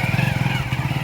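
A motorcycle engine idles and revs close by with a steady low pulsing throb and some clatter, set in a rural Gujarati village scene.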